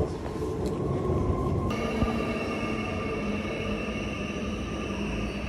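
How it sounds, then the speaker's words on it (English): A Paris metro train runs past, a loud continuous rumble with steady tonal whine and a sudden shift in pitch partway through, no voices over it. "Approximately every 5 minutes there's a metro coming through or a train."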